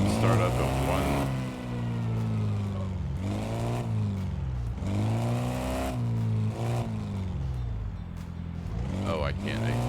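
A car engine in a mechanic simulator video game cranks and catches with rough, uneven revving, its tone rising and falling in repeated surges for about ten seconds, loud and close throughout.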